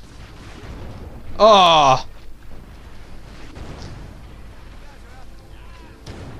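A loud, distorted blast of rockets going off in the video game Project: Snowblind bursts out briefly near the start, then fades under ongoing game noise while someone talks.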